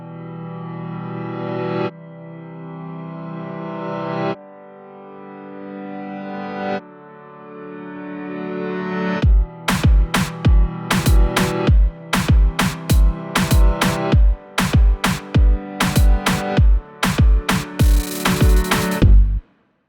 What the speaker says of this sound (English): That is how I created my reversed, inverted, reverb swelling piano effect.